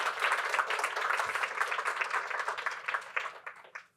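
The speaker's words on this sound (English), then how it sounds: "give them a round of applause" A conference audience breaks into sustained applause after a talk, a dense wash of clapping that holds steady for several seconds before fading out.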